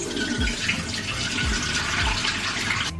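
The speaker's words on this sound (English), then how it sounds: "So I need to rinse and chop my scallions." Scallions are rinsed under a running kitchen tap, a steady broadband rush of water spattering into a sink that runs unbroken and fairly loud for the whole stretch, with a few low thumps underneath.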